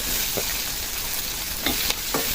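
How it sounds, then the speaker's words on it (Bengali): Onions sizzling in hot oil left from frying potatoes for a mutton curry, a steady close hiss with a few clinks of a spoon stirring the pan. "এই আলু ভাজা তেলের মধ্যে দিয়ে দেবো আমি কিন্তু এক্সট্রা কোনো তেল দিইনি এই তেলের মধ্যে পেঁয়াজ দিয়ে দেবো"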